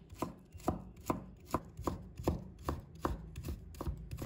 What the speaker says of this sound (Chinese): 再准备1块生姜，把它切成片